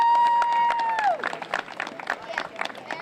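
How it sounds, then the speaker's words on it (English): Audience applause at a Brockton YMCA community gathering: a sustained electronic tone cuts off, giving way to a dense patter of clapping from a room of people, with a faint crowd murmur underneath. "Give yourselves a round of applause."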